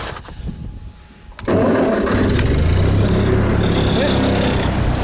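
A Ford 9N tractor engine cranks and catches after a quiet moment, then settles into a loud, steady running rumble that carries on to the end.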